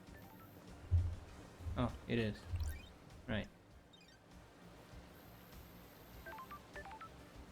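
A telephone sounds in the video game Paradise Killer, with short electronic beeping tones near the end after a few brief spoken words.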